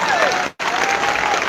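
A church congregation claps in praise during a Spanish-language Catholic sermon, the applause dense and steady, breaking off for an instant before resuming.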